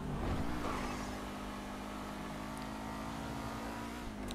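A Grotti Seven-70 sports car engine in GTA Online revs briefly at first, then settles into a steady drone. It is close and clear, with no talk.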